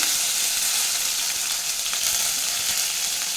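Cumin seeds, kasuri methi, ginger and green chili sizzle steadily in hot oil, a dense, close crackling hiss that holds even and unbroken with no voices.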